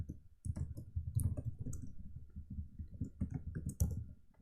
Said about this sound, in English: So let's type a comment here, for loop in over a list